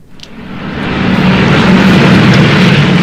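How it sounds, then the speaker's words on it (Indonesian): Dakota propeller transport aircraft carrying Dutch special forces flies over the small town of Rengat in Central Sumatra in 1949, a loud steady engine drone that swells in over the first second and then holds. "Pesawat Dakota yang membawa pasukan khusus Belanda terbang di atas kota kecil Rengat di Sumatera Tengah"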